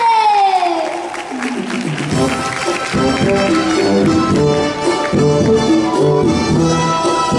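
A concert audience cheering and clapping after a sweeping descending tone, forming a loud, continuous crowd roar with whoops and shouts, with music playing through it.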